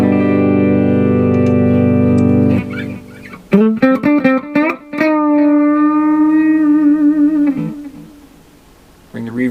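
Electric guitar played through a Positive Grid Spark practice amp with reverb: sustained chords ring out, then a run of picked notes and held bends with a reverberant tail, fairly loud, without talk.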